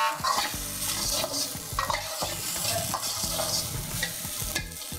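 Rice stir-fried in a pan for fried rice on a TV cooking show: loud, continuous scraping of a spatula against the pan over a steady oily sizzle, close up with no talking.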